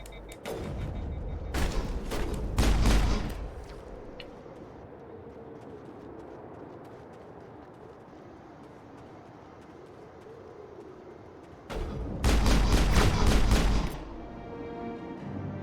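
Snipers' gunfire in Mass Effect, two loud bursts of rapid sharp shots separated by a long quieter stretch of low ambient rumble.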